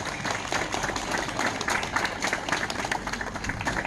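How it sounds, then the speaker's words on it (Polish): Applause greeting a village delegation at a municipal harvest festival (dożynki) in Łagiewniki, sustained dense clapping from an outdoor crowd throughout. "Oklaski dla Sienic."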